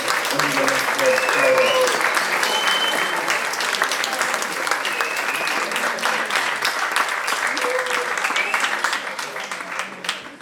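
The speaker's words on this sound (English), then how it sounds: "I think we all should give a round of applause for our great teachers" A room full of people at an Erasmus gathering in Lisbon applauds their teachers with sustained, dense clapping that stays loud for around ten seconds, with voices and cheers mixed in before it fades.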